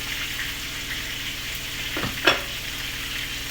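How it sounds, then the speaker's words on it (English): Steady sizzle of chicken frying in a pan, a continuous hiss with a brief louder crackle near the middle. "chicken frying is a really good smell"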